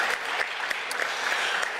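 A crowd at a college football national signing day event claps steadily throughout, close and continuous, with a few louder individual claps standing out.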